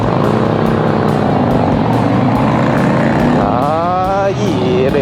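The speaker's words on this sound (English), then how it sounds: "beefy exhaust on this too" Triumph Bonneville Bobber motorcycle exhaust while riding, a loud, beefy engine note with pulsing throb that rises in pitch as it revs near the end, heard up close with wind noise.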